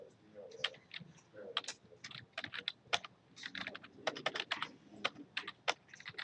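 Keys clatter on a computer keyboard in quick, uneven bursts, close by and fairly quiet, with short pauses between runs of typing and no speech.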